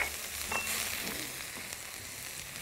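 Minced garlic frying in oil for crispy chicken with garlic honey sauce, giving a steady, soft, close sizzle with faint crackles throughout and no voices.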